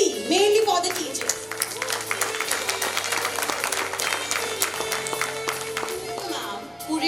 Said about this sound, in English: Let's have a huge round of applause for mainly for the teachers.